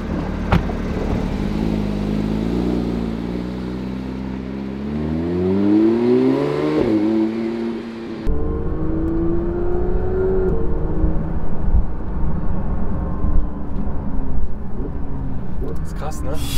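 A Porsche 911 GT3 of the 992 generation revs its engine while driving, the tone climbing through a rising sweep, then a shift and another pull, all steady and fairly loud inside the cabin with people talking over it.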